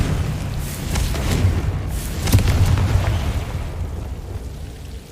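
A Confringo blasting spell goes off in Hogwarts Legacy as a sustained, rumbling boom with a dense, noisy roar that swells in the middle and slowly fades.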